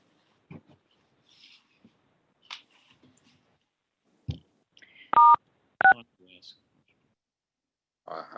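A phone line joins an online conference call, with scattered clicks and small noises, then two short bright bursts of dial tones, the last burst the loudest, with faint voice sounds in between.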